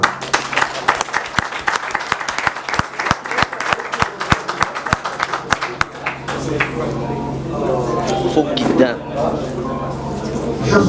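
An audience at a political debate in the DRC claps in sharp, fairly regular beats for about six seconds, then the clapping gives way to a steady murmur of crowd noise and voices.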